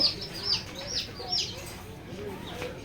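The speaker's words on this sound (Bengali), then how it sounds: "এখানে লেয়ার মুরগি রয়েছে" Layer hens on a poultry farm cluck in a few rising calls near the start, then quieter clucking and low murmurs carry on underneath.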